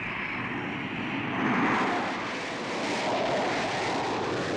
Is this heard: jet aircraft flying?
yes